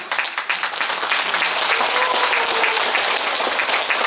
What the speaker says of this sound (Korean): 박수 많이 주신 형님들은 그동안 꼭 들어가시기 바라겠습니다